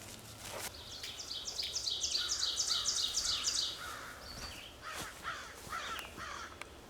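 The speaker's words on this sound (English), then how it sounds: "here come the ravens already" Ravens calling in the woods, a run of harsh rhythmic croaks and caws, fairly distant, followed by a few scattered calls over faint outdoor ambience.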